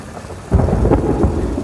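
A loud crack and rumble of thunder breaks in mid-storm over steady heavy rain, with a second lighter rumble after it, close and powerful.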